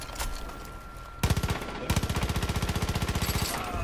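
Automatic gunfire in the shooter Far Cry 5 opens with a few single shots, then settles into a rapid, evenly spaced stream of loud, close bursts that keeps going to the end.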